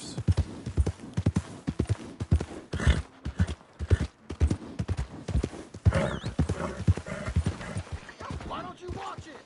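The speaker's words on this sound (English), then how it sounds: "Who's a good horse?" Horse hooves clip-clop in a steady, repeated rhythm in a PS4 video game, with a brief neigh and game characters talking over the hoofbeats.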